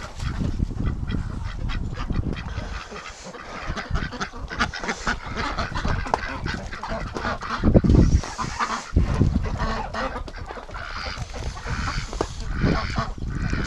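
Large Muscovy ducks call in a noisy flock outdoors, a continuous mix of hoarse honks and raspy calls, near and loud, with wind noise throughout.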